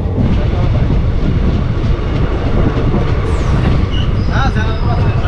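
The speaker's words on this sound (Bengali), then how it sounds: "এবারে আমাদের ট্রেন ঢুকছে" Teesta Torsha Express (13141) pulls into Khagraghat station, heard from on board as a loud continuous rumble of wheels and carriages with high metallic squeals and brake screeches near the end.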